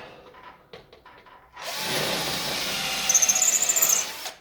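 A power drill starts abruptly after a few quiet knocks, then whines steadily and close, boring into an aerated concrete (Ytong) block with a metal drill bit, with a rising, grinding pitch near the end.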